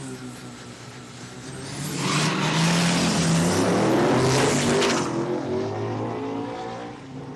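A Nissan GT-R drag car at an Australian eighth-mile drag racing event revs and accelerates hard, its engine note swelling from a distant drone to a loud, sweeping roar that peaks midway and then fades as the car pulls away.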